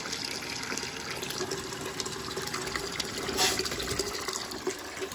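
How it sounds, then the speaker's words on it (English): Water gushes steadily through a steam boiler's low water cut-off (McDonnell 67) as the boiler fills and is flushed of gunk, a continuous close rushing flow with a brief louder surge partway through. "I'm just flushing through as it fills. Getting a good amount of gunk out of there, you can see."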